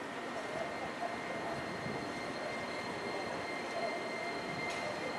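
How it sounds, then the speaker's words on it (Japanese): An electric train pulls into a station platform on a line toward Kyoto Kawaramachi, a broad steady rumble and rail roar filling the clip at moderate level with no clear talk over it. "まもなく2号線に京都河原町方面に向かう電車が到着します"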